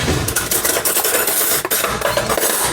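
A fork whisks yogurt, oil and sauces in a bowl with rapid, close scraping and sloshing strokes that run continuously, with no voices.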